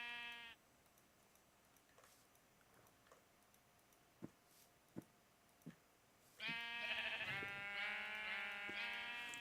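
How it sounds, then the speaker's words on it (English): Sheep bleating in Minecraft 1.14.2 beside berry bushes: one short bleat opens, a few soft ticks and taps follow in near-quiet, then loud, sustained, overlapping bleats fill the rest, close and with no talk. "a sheep died on the berry bush"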